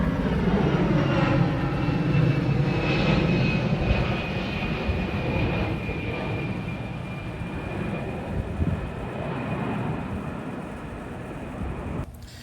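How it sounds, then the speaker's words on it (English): Airplanes fly overhead outdoors in a garden. A loud, broad engine roar is strongest at first and fades slowly, and a thin whine slides down through the passage. "Sorry about the planes going by."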